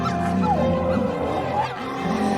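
Several dogs bark and whimper in a film scene, overlapping yips and whines over a dense background of music and effects.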